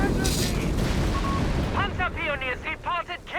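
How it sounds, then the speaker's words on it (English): Landmine blasts in a Company of Heroes 3 multiplayer battle give a heavy, rumbling boom that rolls out across the opening second and a half, followed by scattered battlefield noise beneath a commentator's continuous talk. "So many mines exploding in the south here."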